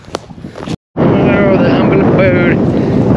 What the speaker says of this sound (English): It is a windy one.